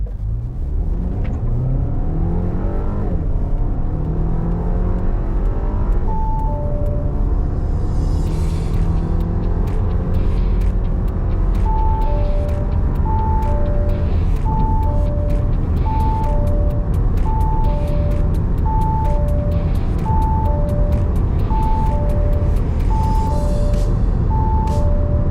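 A 2023 Audi Q3 Sportback quattro accelerates hard, its engine note climbing through a constant loud cabin roar, while a repeating electronic beep chimes steadily through the later stretch.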